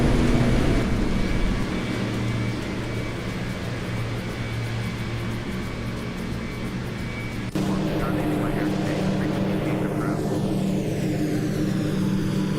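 Steady aircraft engine drone in flight within the flight-simulation game Air Hauler 2, a continuous loud hum that shifts tone partway through, with someone talking over it.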